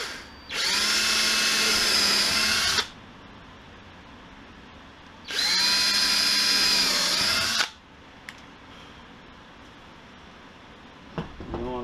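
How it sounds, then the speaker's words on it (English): A cordless power drill bores pilot holes at an angle into wooden ceiling framing of a 1966 Shasta camper, whining in two loud bursts of about two seconds each separated by quiet pauses, with a faint clunk near the end. "that's why we're drilling pilot holes"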